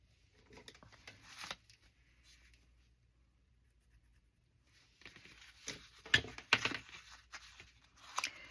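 Quiet scissor snips cut through a page from a Raggedy Ann book, a few brief crisp cuts in two clusters separated by a near-silent pause, close and faint.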